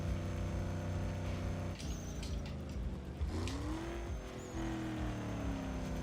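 A Lincoln Navigator boosting on NOS in Need for Speed Underground 2, a loud sustained engine drone with a gear shift midway, then a rising rev climbing in pitch as it accelerates.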